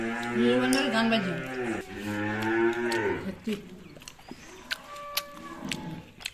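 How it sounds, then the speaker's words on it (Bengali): A calf moos loudly and close by in two long, drawn-out bellowing calls, followed by scattered clicks and knocks with faint background sounds. "বাছুরটা কাঁদছে, এখনো ঘোষ আসেনি বলে।"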